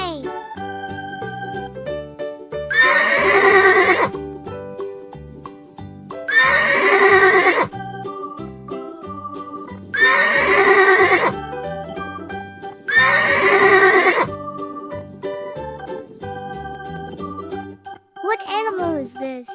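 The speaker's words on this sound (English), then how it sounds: "Correct, a horse says neigh," Four loud horse whinnies, each a rising then shaking neigh about a second long, repeat at even intervals with brief gaps of quiet and faint background between them.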